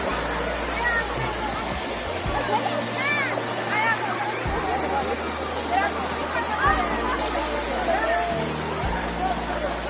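A waterfall running low on an outdoor school picnic outing pours in a continuous rushing, splashing wash of water, with voices talking over it throughout.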